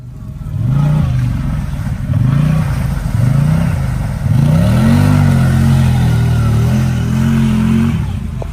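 A Yerf-Dog go-kart engine revs loudly and close, with several short rising blips followed by a long sustained high rev that holds steady before easing off.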